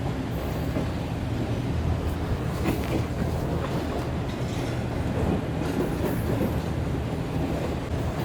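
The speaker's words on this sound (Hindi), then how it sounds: "तो रोड़ी के पहाड़ों के दरमियान जाने के लिए ट्रेन हमारी बिल्कुल तैयार है।" Shalimar Express passenger train running on rails near Lahore, a steady loud rumble of wheels on track with a rhythmic clickety-clack throughout, close and continuous, with no voices.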